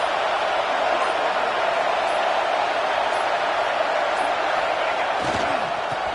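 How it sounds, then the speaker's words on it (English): Stadium crowd roar in a football video game, a dense, loud, continuous wash of noise that holds steady throughout. "This crowd is trying to inspire this defense to make a big red zone stop."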